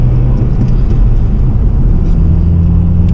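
Steady low engine rumble from a 7th-generation Honda Civic Si (EP3) with an AEM intake and intake-only VTEC, a loud continuous drone with a few faint higher ticks and no talking.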